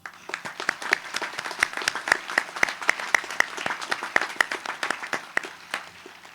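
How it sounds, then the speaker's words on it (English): Graduation audience at a high school commencement ceremony applauding teachers and staff, steady dense clapping with sharp individual claps standing out, moderately loud and sustained throughout. "Let us please give these teachers and staff a round of applause"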